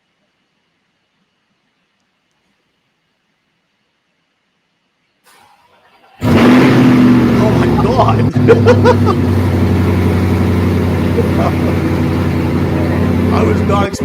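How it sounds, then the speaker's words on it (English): A black Chevrolet C8 Corvette with a Paragon exhaust and headers cold-starts after near silence, catching with a sudden loud bark and settling into a deep, rumbling, steady idle close by, with a brief exclamation from a voice. "Cold start of the black car here has a Paragon"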